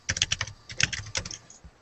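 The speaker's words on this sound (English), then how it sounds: "Typing. We have a loud typer." Loud, fast typing on a computer keyboard in a coworking space, with bursts of sharp key clicks in an uneven rhythm, close and alone.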